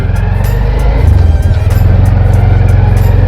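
A 2023 Honda Wave 125i four-speed motorcycle is ridden in first gear: a loud, close engine drones with a low rumble and light ticking, holding steady and swelling slightly after the first second.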